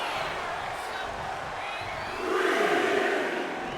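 Wrestling crowd at a live event cheering and shouting steadily, with a louder swell of roaring near the end, dense and continuous.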